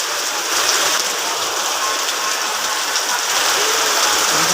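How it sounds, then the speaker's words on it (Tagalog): Heavy typhoon rain pours in a dense, steady roar that fills the whole clip, loud and close with no break and no one talking. "sobrang lakas ng ulan"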